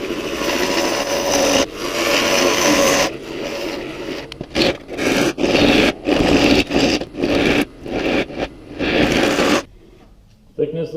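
A wood lathe rough-turns a moldy maple bowl, the gouge cutting in a steady scraping whir and then in a series of rhythmic bursts of cuts before the machine falls quiet.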